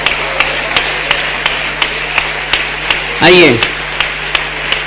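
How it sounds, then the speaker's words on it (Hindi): An audience at a religious study camp event claps for a top-scoring student, the rhythmic hand claps spaced and steady under a voice speaking, with a brief musical swell midway. "जोरदार तालियों से इस विद्यार्थी का स्वागत करें"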